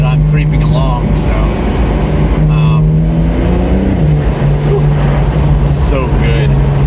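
A Porsche 911 Targa with a dual-clutch gearbox in Sport Plus mode creeps along, its engine note stepping through quick shifts and small rev changes, heard loud from inside the cabin with people talking over it.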